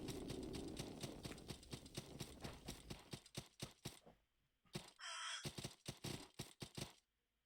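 Crows caw in a series of short, harsh calls near the end, standing out against a fading steady rumble and rhythmic clopping beforehand; no one speaks.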